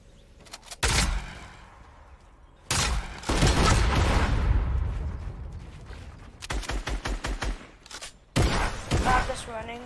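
Gunfire in the Fortnite video game, with several loud bursts of shots and booming blasts in separate clusters across the span, close and dense, with some game noise between them.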